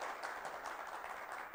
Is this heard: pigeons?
no